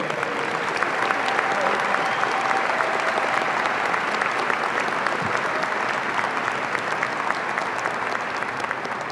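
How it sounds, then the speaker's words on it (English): A graduation crowd applauds the teachers in a high school ceremony, a steady, dense wash of many hands clapping that holds evenly throughout, with no voice over it. "Please stand in a round of applause for our Tiger teachers that have produced these fine graduates today."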